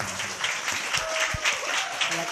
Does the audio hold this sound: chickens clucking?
no